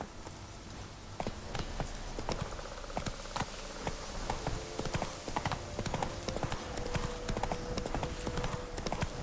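Roach the horse gallops in The Witcher 3: Hearts of Stone, with dense, rhythmic hoofbeats pounding steadily and close throughout.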